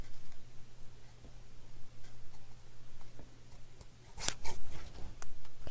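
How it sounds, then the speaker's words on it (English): Scissors fussy cutting around a shape in paper, producing soft, sparse snips over a low steady hum, ending in a denser burst of crisp cutting and handling noise. "Now this one I'm fussy cutting out around."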